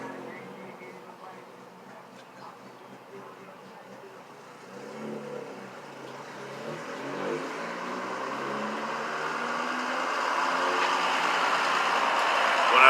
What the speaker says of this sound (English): that guy needs to get his muffler fixed